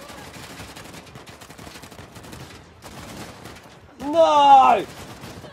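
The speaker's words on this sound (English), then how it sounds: "Where the fuck are they shooting me from?" Gunfire in the video game Uncharted: The Lost Legacy comes as rapid bursts of shots under a player's talking, followed by a loud shout near the end.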